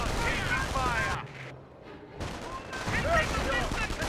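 Sniper and infantry gunfire in the Company of Heroes video game, sharp shots and bursts among battle noise, loud and close, with a commentator's voice running over much of it.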